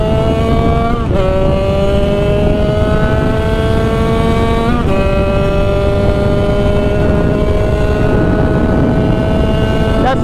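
A Sherco supermoto with a 77cc Metrakit kit screams along at high revs in fifth gear, loud and close, its engine note climbing steadily with brief dips at shifts and heavy wind rush underneath.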